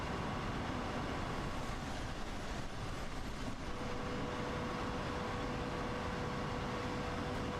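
Steady rumble of a regional train running between Dresden and Coswig in Train Simulator World 2, a constant dense roar of wheels and motors with a faint tone entering midway, no voices.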